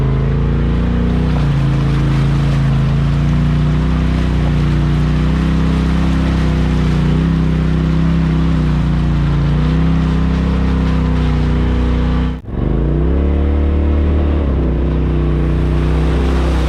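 A Turbo R side-by-side engine idles and rumbles steadily while backing out, a loud, close, continuous drone that briefly cuts out near the end before resuming.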